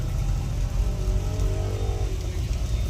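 Steady, heavy rain pours down continuously, a dense rushing patter with a deep low rumble and no voices.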